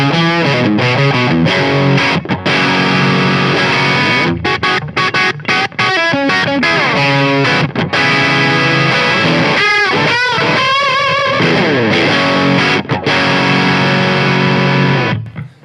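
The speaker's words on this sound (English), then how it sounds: "So now turning the pedal on the overdrive side." Electric guitar with Fletcher Landau pickups driven through the overdrive side of a Pigtronix Disnortion pedal into an amp, giving a loud, warm, fat vintage-style overdrive on a continuous riff with chords and single-note bends, alone.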